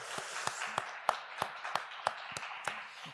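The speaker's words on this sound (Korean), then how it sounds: "우리 한번 제 아내를 포함해서 박수로 격려하도록 하겠습니다" Church congregation clapping in encouragement at a graduation ceremony during an afternoon service, a sparse run of separate claps with a steady beat, fairly faint and without talk over it.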